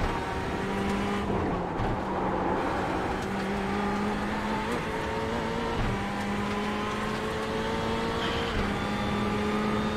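A Ferrari GT3 race car engine in the iRacing sim on the Nordschleife drones steadily and loudly throughout, pitch climbing through the gears with brief dips at upshifts around two, five and six seconds, plus a faint tire squeal.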